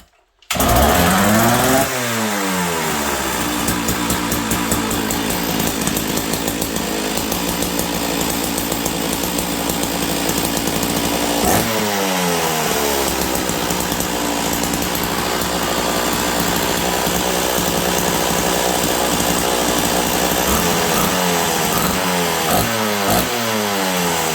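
A Sachs Dolmar 133 chainsaw on a bench fires up and runs loudly, its two-stroke engine holding a fast, buzzy idle with a few sharp revs up and down along the way, close by and with no talking.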